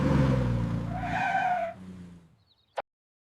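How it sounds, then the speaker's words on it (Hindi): A cartoon car skids on the road with a loud, smeared tire squeal that fades over about a second, ending in a sharp short impact. "रुको, गाड़ी आ रही है।"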